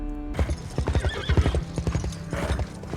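Horse hooves galloping in a scene from The Witcher series, rapid close clip-clop beats with a neigh, loud and driving over a soundtrack.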